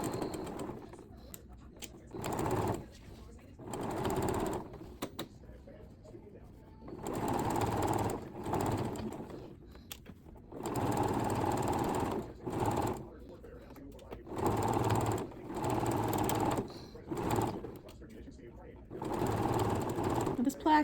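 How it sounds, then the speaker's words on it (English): Bursts of home sewing machine stitching as a button placket is sewn onto the front of a boy's shirt at a 5/8-inch seam, several runs of whirring separated by pauses, with a person talking in the gaps. "I am sewing the button placket onto the front of the shirt at 5/8 of an inch"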